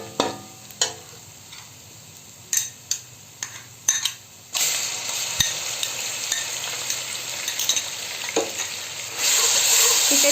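Ginger garlic paste frying in oil in a pan for mixed vegetables: a series of spoon scrapes and clacks, then a loud, steady sizzle that swells further near the end, with no talking.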